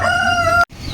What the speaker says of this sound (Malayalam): ഇതാണ് അമീറയുടെ കോഴി.